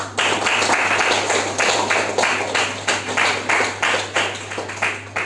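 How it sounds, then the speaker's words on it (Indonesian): An audience in a classroom microteaching session claps in a steady, dense patter of hands lasting several seconds, fairly loud over a constant low hum. "Oke, tepuk tangan buat kita semua."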